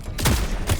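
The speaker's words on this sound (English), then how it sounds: "They're shooting." Gunfire in the video game Vampire the Masquerade Bloodlines 2 comes as a short, loud burst of two or three close shots within under a second.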